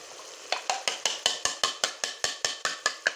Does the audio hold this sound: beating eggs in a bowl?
yes